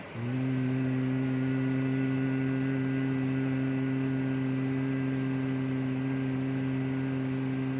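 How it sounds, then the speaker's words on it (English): A steady, deep bee-like hum from one person's Bhramari pranayama breathing, the drawn-out closing hum of Om, sustained loud and close at an even pitch for about eight seconds with no talking. "the humming, the last syllable of Om, is a dissolution sound"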